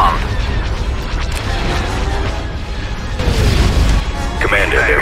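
Explosions and heavy booms from enemy fire rumble through a sci-fi strategy video game battle, loud and layered, with a surge of blasts near the end and game voices speaking over them.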